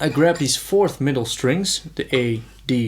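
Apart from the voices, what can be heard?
No distinct noise like a dog, phone or traffic.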